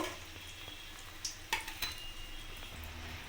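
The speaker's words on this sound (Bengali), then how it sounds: "এইভাবেই আমি সমস্ত কাটলেটগুলো ভেজে নেব" Soybean vegetable cutlets frying in hot white oil in a pan, a soft steady sizzle with a few sharp clinks and scrapes of a utensil against the pan partway through.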